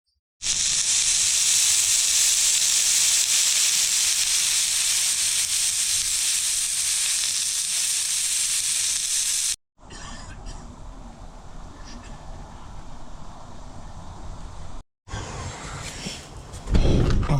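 Mushrooms and potatoes fry over low heat in a covered frying pan with a saucepan lid on it, giving a steady, close sizzling hiss that continues through a few abrupt cuts and a brief louder rustle at the end.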